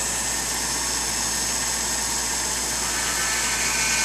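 A micro CNC machine drills holes in preparation for tapping, giving a steady, continuous whirring drone with a broad hiss that holds evenly throughout, close and fairly loud, with no talking.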